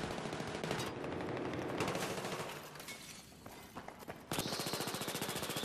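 Rapid automatic gunfire from an A91 rifle in the multiplayer shooter Battlefield 3, loud and continuous with dense bursts of shots, a brief lull, then another sustained stream of fire near the end.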